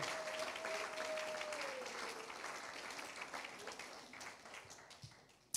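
A church congregation claps together in sustained, fairly close applause that gradually thins and fades out, with a single voice briefly rising over it early on.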